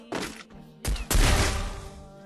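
Sniper rifle shots in a battle royale mobile shooter: two loud, close gunfire bursts, the second heavier with a booming tail, separated by a short gap, with no talk over them.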